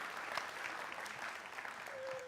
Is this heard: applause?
yes